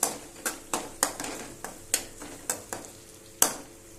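Onions browning in a pan for an ivy gourd and tomato curry, stirred with about nine sharp scraping strokes at an uneven rhythm over a faint sizzle, close and alone without talk.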